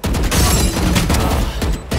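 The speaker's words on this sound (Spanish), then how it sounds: "Los disparos de Iso están raros." A loud, dense volley of rapid gunfire in Valorant that fills the whole moment with overlapping shots.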